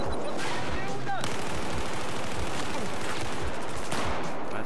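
Battlefield 4 gunfire crackles through most of the stretch, a dense run of close, rapid shots with sharp impacts, continuing steadily with a brief burst of louder fire near the start and again near the end.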